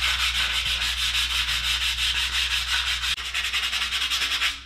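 A badly rusted turbocharger is sanded by hand with 220-grit sandpaper: quick, even back-and-forth scraping strokes, loud and close, repeating steadily over a low background hum.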